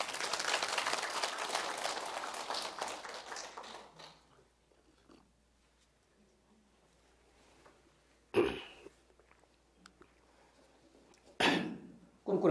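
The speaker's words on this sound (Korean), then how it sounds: "박수 한번 칩시다." Lecture audience clapping after a talk on preparing for the 100-year life, a dense burst of applause fading out over about four seconds, followed by near silence with a couple of brief bumps.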